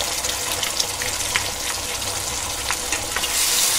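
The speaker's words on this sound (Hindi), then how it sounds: "अभी ये अदरक लहसुन डालेंगे इसमें।" Ginger and garlic fry with onions in a pan, a steady soft sizzle with occasional scraping stirs, close and fairly quiet with no talking.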